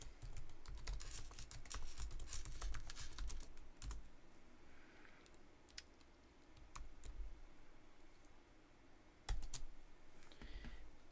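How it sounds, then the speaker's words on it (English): Password typed on a computer keyboard: a quick run of close, crisp key clicks, a pause, then scattered individual presses, fairly faint against a low background hum. "I'm going to hide real quick to type in my password"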